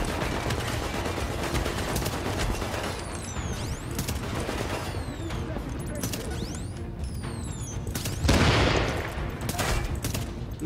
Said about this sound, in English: No way is he shooting me from with that shotgun